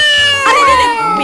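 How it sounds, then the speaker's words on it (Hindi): A cat gives a loud, close, drawn-out meow with a falling, whining pitch, heard on a Hindi film soundtrack over a low background hum. "बिल्ली है जी, बिल्ली है।"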